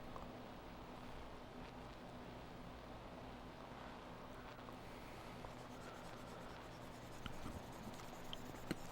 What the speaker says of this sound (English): let's erase this down here first